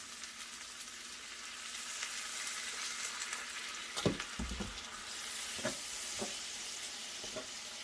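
Roast beef warms in a pan with beef broth and juices, giving a soft, continuous sizzle. A few scattered clinks and scrapes from stirring break through the hiss.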